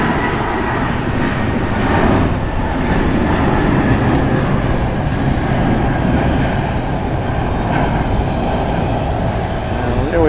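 Airplane taking off at Gimpo International Airport in Seoul, heard from the observation deck as a steady, broad jet engine roar, fairly distant and continuous throughout.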